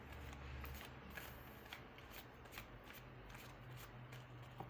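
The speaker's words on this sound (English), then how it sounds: "So let's shuffle our cards." Quiet, close riffling of a tarot card deck being shuffled, in repeated short bursts with a soft papery rhythm and no talking.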